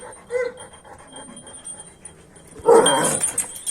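Dog whimpering and growling in a home setting, short soft whines early on, then a louder burst of agitated growling and yipping near the end with no talk over it.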